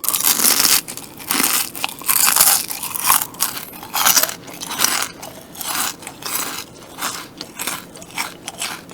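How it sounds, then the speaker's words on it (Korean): Loud, close crunching of crispy Pelicana fried chicken being bitten and chewed, with crackly bursts repeating steadily throughout. "씹는 소리 한번 제대로 들려 드려 볼게요."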